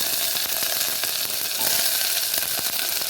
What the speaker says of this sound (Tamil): கருவேப்பிலை சேர்த்துட்டு நல்லா தாளிச்சிட்டு